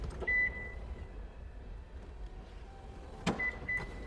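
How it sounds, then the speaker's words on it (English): A 2019 Nissan Murano's power rear seats rise automatically, giving a quiet steady motor hum with a few short chime tones and a soft thump near the end. "all you have to do is pull in a button and the seats will come up automatically"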